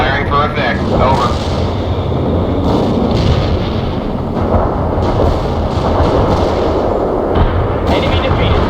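Artillery barrage in the World in Conflict strategy game, a dense run of heavy booming blasts and rumbling explosions rolling continuously and loud, with radio-style voices speaking over it.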